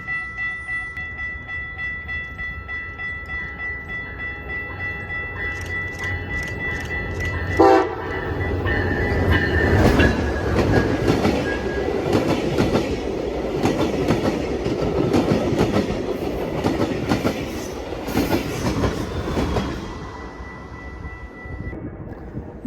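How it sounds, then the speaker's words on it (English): Amtrak passenger train led by two Charger locomotives passes close, its horn sounding loudly before the rumble builds into a long roar of rail noise and rhythmic wheel clatter that fades toward the end. "Next, we'd see Amtrak 335 led by two Chargers."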